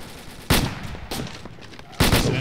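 Gunfire in a military video game set in Fallujah: loud, close shots ring out in three sharp bursts, each trailing off into a brief echoing decay.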